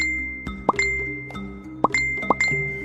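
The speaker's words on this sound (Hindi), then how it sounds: "उसके फोन पर लगातार 4-5 बार नोटिफिकेशन वाली घंटी बजी" A phone's notification chime rings four times in quick succession in a Hindi audio drama, each short bright ding standing out over a low background hum.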